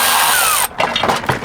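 A power drill spins at a high whine for a moment, loosening a 10 mm bolt on the front bumper of a 2016 or later Toyota Tacoma, then cuts off into short rattles and clunks.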